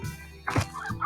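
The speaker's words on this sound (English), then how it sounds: "A stony hen." A stony hen in the video game Slime Rancher gives a short, soft fowl cluck, one brief call followed by a quieter second note, heard alone.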